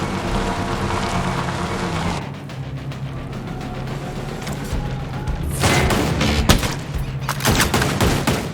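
Mortar fire explodes around the player in the military shooter Ghost Recon Breakpoint, dense rumbling blasts and crackling gunfire over a steady noisy backdrop, with louder bursts late on and no talk.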